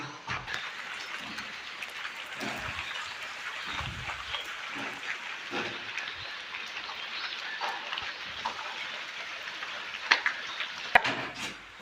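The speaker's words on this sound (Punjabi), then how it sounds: "ਮੀਂਹ ਵੀ ਇੰਨਾ ਜ਼ਿਆਦਾ ਪੈ ਰਿਹਾ ਬਹੁਤ ਜ਼ਿਆਦਾ" Heavy continuous rain falling in the early morning, a steady hissing patter with irregular drips and knocks on nearby surfaces, and a few sharper taps near the end.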